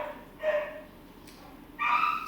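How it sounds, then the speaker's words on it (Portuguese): A neighbour's dogs barking and yipping in the distance, two short faint bursts heard through a quiet room. "Estão escutando os latidos?"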